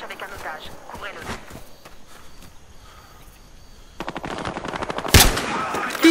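Gunfire in the police-and-criminals shooter Battlefield Hardline, with scattered shots and footsteps early, then denser bursts of gunfire from around four seconds, including one sharp loud report, under sparse game voices.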